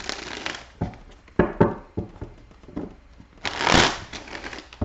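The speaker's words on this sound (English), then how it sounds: "I do like to shuffle in front of the camera so that you know that I'm not rigging the cards" Tarot cards being shuffled by hand in a run of crisp riffling bursts and soft slaps, close and fairly loud, with a longer, denser riffle near the end and no talking.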